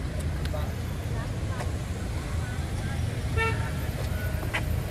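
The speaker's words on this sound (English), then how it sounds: "I'm just watching the traffic here" Jammed road traffic in Vietnam, heard up close: a dense roar of engines with repeated short horn toots and honks, and voices talking over it.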